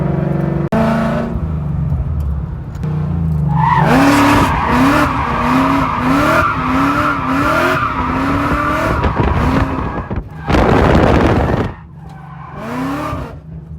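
A car drifts with long tire skids, squealing in repeated rhythmic swells as it transitions from side to side, with the engine roaring underneath and a loud burst of revving near the end.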